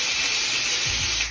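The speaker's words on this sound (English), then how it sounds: "I spray it into the cap," Lace adhesive spray hisses loudly into a wig cap in one continuous burst, ending with a soft thump as the can is set down.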